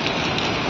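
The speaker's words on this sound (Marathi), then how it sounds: "जोरात पाऊस चालू झाला आहे" Heavy rain pouring down outdoors, a dense steady hiss of drops, loud and close, in a very short burst.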